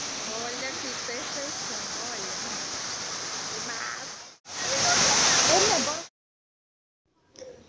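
Water rushes over the lower section of a dam near Orós like a waterfall, a loud, broad continuous roar that breaks off twice, with a voice faintly audible under it.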